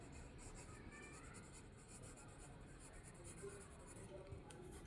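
A pencil writing on paper while drawing a geometry construction, a steady soft scratching that runs throughout over a constant background hiss.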